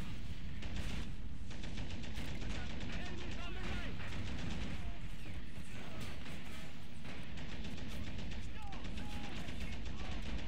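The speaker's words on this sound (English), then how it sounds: "50 cal shooting point blank" A .50 cal machine gun firing point blank in the Men of War: Assault Squad 2 video game, loud dense rapid gunfire rattling without pause, with voices mixed under the shooting.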